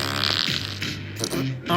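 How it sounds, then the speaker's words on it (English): Fart sound effect played during a comedy sports podcast segment, a short buzzy, flappy blurt with a rough tonal rasp, repeated in uneven bursts and ending on a louder rumble. "I don't actually like fart noises"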